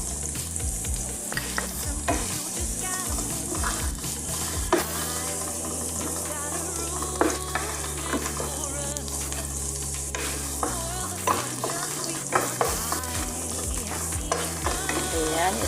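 Garlic for tuna afritada sizzles and fries steadily in a pan while being stirred, with scraping and clinking of a utensil over the constant loud crackle.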